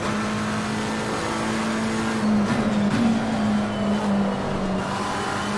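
A McLaren 720S race car engine in Assetto Corsa Competizione at the British GT circuit, a steady loud droning tone heard from inside the car with slight pitch wavers.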